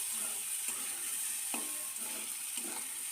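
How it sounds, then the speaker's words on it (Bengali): Turmeric and spices frying in oil in a pan for a Bengali betho saag dish, giving a steady close sizzle with a few soft stirring scrapes and no talk. "এবার আবার একটু ভেজে নিচ্ছি, এতে করে হলুদের কাঁচা গন্ধটা চলে যাবে।"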